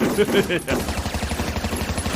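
Rapid movie gunfire from the animated film Heavy Metal rattles as a dense, steady burst of shots under a layer of voices and soundtrack noise.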